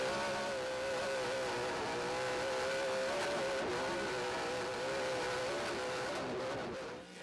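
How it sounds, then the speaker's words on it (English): Pro 4 off-road racing trucks in a CORR race drone and rev continuously with a sustained, wavering engine note, loud and steady throughout, no speech. "It's just incredible what these trucks do and what they sound like."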